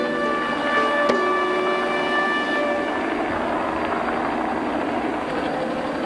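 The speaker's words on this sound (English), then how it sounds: "It is the noise and position of the helicopter that shepherds the wildebeest inside." A helicopter hovers and manoeuvres to herd wildebeest into a boma during a wildlife capture, its steady, loud rotor and engine roar continuous throughout with a whining tonal edge that fades slightly partway.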